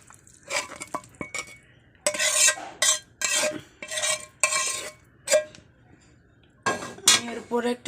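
Cooked noodles are lifted from a pan with a metal utensil, producing a run of close, bright scrapes, clinks and clatters against the pan in irregular bursts separated by brief pauses.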